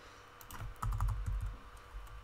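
Typing on a computer keyboard while writing code, a short close burst of clustered key clicks and thumps, loudest in the middle, then tapering off.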